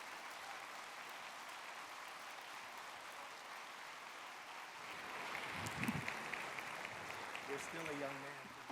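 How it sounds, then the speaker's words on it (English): Faint applause from an Indigenous assembly audience welcoming a speaker, a soft distant patter that swells louder midway, with a voice starting up near the end. "a big round of applause, a big rousing welcome to Onondaga"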